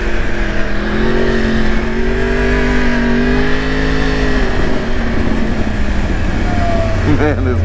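Motorcycle engine revving up and down while the rear tire is scrubbed in before a track day, a loud close wavering engine tone with a speaking voice over it.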